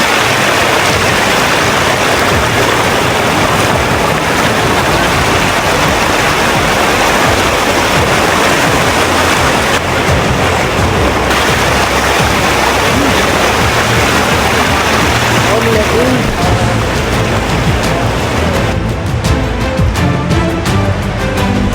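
A river flows loud and close near the Coto mines in Zambales, a dense unbroken roar of rushing water filling the whole stretch with no voices over it.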